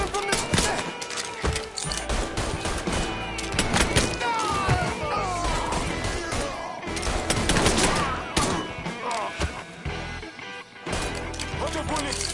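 Intense gunfire in Mafia 3, a chaotic fusillade of overlapping shots and impacts at close range with shouted voices over the top.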